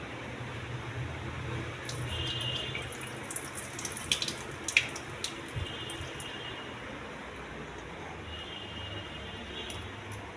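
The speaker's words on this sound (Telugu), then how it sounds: "ఈ నీళ్ళు ఒకే ఒకసారి కడిగి వంపండి." Soaked red rice is rinsed in water in a steady, continuous wash of splashing and sloshing, with a few brief clinks of a vessel partway through and no voices.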